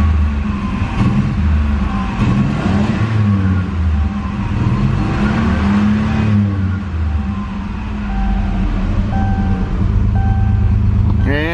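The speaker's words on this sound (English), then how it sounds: "We also have been letting it idle quite a bit, so it's starting to warm up." A 1988 Merkur Scorpio's warmed-up engine runs steadily at idle, a continuous low rumble with a faint higher whine, heard close and alone for the whole stretch.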